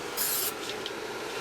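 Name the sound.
spraying CRC rust converter onto rusty metal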